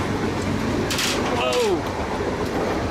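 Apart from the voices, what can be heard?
Indian sleeper train running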